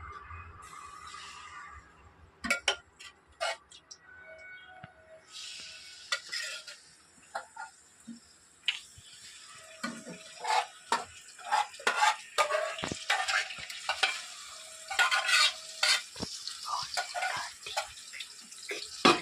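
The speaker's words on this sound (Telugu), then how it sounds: "మనం ముందుగా మసాలా రాసి పెట్టుకున్న ఏదైతే ఉందో దాన్ని మొత్తాన్ని దాంట్లో ఫ్రై చేసేసుకోవాలి" Masala-coated chicken liver fries in hot oil as a spoon stirs it, sending out irregular clacks and scrapes against the pan over a bright spitting sizzle that grows busier toward the end.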